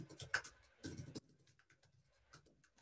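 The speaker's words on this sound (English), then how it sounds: "And I would then type Anthony Robbins." Keystrokes on a computer keyboard while entering a name into a Facebook Ads audience search field, a quick burst of light taps followed by sparser, faint clicks.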